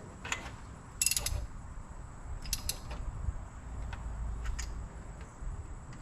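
A 13/16 Craftsman spark plug socket on a ratchet tightens spark plugs on a 1965 Datsun 320 pickup truck: short bursts of close, crisp ratchet clicking come in several separated spurts over a low, quiet background.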